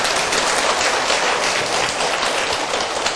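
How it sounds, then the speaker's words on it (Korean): Congregation applauding at the close of a church Bible study session, a steady dense wash of clapping from many hands that holds evenly for about three seconds with no voices over it. "우리 박수로 우리 하나님께 감사합니다"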